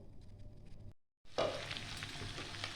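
Yogurt hits a hot pan for mutton rogan josh and erupts into a loud, broad sizzle after a brief silent gap, the frying hiss holding steady and close with faint stirring scrapes.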